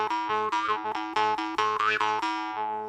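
Twangy, buzzing notes of a mouth harp (jaw harp) played in a quick rhythmic pattern with shifting overtones, close and steady for about three seconds, no talking.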